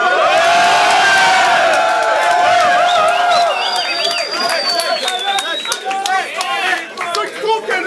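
A battle rap audience roars with dense cheering, whistles and shouts, loud and sustained at first, then breaking into scattered yells and claps as the noise gradually thins.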